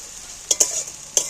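Onion and whole garlic cloves frying in oil, a steady soft sizzle with a few sharp crackling bursts as they are stirred, close and fairly quiet.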